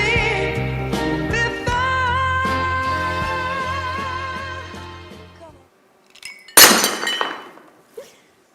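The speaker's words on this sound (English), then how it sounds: "the sound of breaking things and loud noises" Sustained musical tones fade out, then one sudden loud crash of breaking things. Fainter cracks and a late clatter follow.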